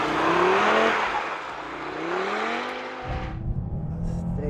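Audi RS3 Quattro powering along a snow-covered rally course, its engine revving loudly up through rising pitch sweeps before the throttle drops off and a quieter rumble remains, close and without talk.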